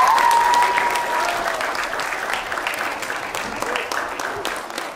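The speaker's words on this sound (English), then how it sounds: "We're going to give each team a nice round of applause." Children and parents at a school general knowledge quiz applaud the finalist teams, dense clapping that slowly fades, with a voice heard briefly at the start.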